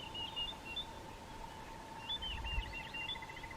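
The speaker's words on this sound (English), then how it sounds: "Beautiful orange-breasted bush shrike." An orange-breasted bush-shrike calls from thicket vegetation on a safari drive, a few faint whistled notes rising and falling over a low background hum, fairly distant and quiet.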